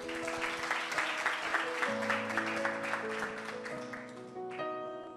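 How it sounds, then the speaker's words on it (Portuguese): A church congregation claps steadily in dense applause while sustained worship music plays underneath, the clapping fading slightly toward the end. "Palmas para o nosso louvor."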